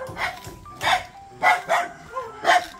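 A dog barks repeatedly, about five sharp barks in an uneven rhythm, fairly close, with no one talking.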